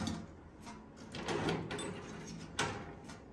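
Drawers on a Seville Classics UltraHD heavy-duty rolling workbench are worked with a key, giving quiet sliding rattles and soft clicks followed by one sharper metallic clack, close-miked.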